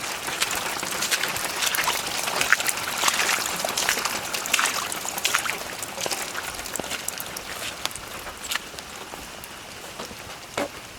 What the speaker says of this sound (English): Yeah, some water's coming off of there.